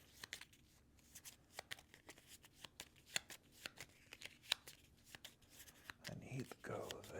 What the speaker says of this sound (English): Let's give these a good shuffle, huh?